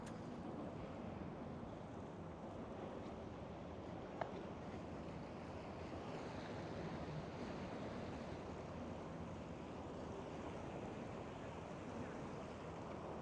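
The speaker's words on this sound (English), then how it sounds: "It looks beautiful as it hits the rock and it starts to foam and froth there." Steady low rush of ocean surf hitting rocks with wind at Fort Point, San Francisco, a continuous washing roar from a distance, no voices.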